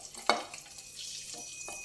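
Boiled eggs fry lightly in a little oil with a faint, gentle sizzle, marked by one sharp clink of stirring early on and a couple of softer scrapes later.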